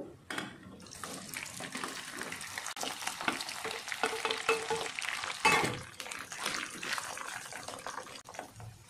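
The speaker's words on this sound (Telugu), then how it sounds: "ఇవి కూడా ఫ్రై చేసుకుందాం." Chicken pieces frying in a pan for homemade chicken pickle, a loud close sizzle with bursts of spattering and stirring clatter, rising and falling over several seconds.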